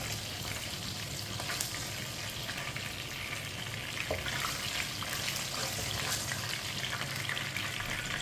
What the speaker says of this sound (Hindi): जीरे को 1 मिनट के लिए रोस्ट कर लेंगे।